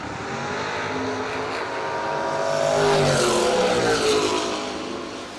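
A Chevy S10 and a Roadster launching in a bracket drag race, a steady engine roar that swells to a peak mid-run and then fades slightly, with no talk over it.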